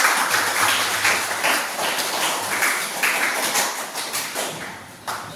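Classroom of students claps loudly and close by, with uneven bursts of hand claps and taps that come in a rough rhythm and keep going for several seconds.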